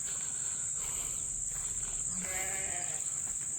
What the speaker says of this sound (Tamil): ஸோ இது ஃபுல்லாக இப்போ பண்ணைகளில் இருக்கக்கூடிய பெட்டாடுகள் ஃபுல்லாக மேய்ச்சல் இருந்துகிட்ருக்கு.